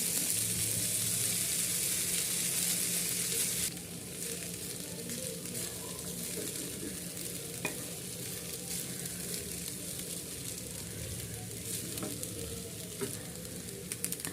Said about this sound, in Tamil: ஆல்ரெடி ஃப்ரை பண்ணி வச்சுருக்க முட்டை அப்புறம் ரைஸ் போட்டு கிளறிட்டு சர்வ் பண்ணிடலாம்